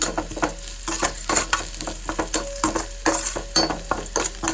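Food is sautéed and stirred in a frying pan, with a steady sizzle broken by repeated scraping strokes of a utensil, close and fairly quiet, with no talking.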